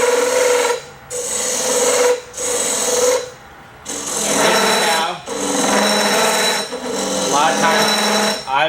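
A card scraper works wood in repeated rasping strokes, each about a second long, with short pauses between them. The scraping is close and fairly loud.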